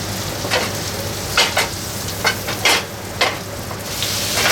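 Butter melts and foams in a hot pan on a gas flame, a steady soft sizzle with several brief crackling bursts, close and alone without talk.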